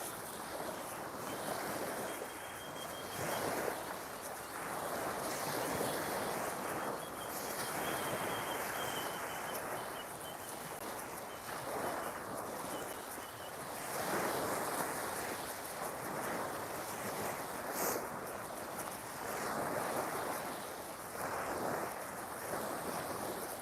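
Ocean waves wash onto a sea-glass beach in slow recurring surges, blended with gusty wind buffeting the microphone, a fairly quiet, continuous outdoor roar with no talking.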